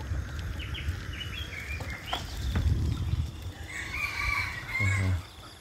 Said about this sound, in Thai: นี่ครับทุกคนยามเช้าที่เอาไก่แจ้ลูกไก่แจ้